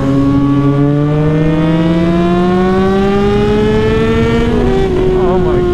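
A car launching hard from a standstill, its engine note climbing in a loud, close, steadily rising whine and roar that holds without a break, with a brief wobble near the end.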